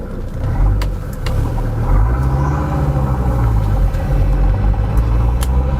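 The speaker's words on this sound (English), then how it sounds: "the engine sound is loud because of the side exit exhaust" A 2001 SsangYong Musso SUV's loud, deep engine rumble drones steadily through a side-exit exhaust, with a throaty low exhaust tone and a few faint clicks over it.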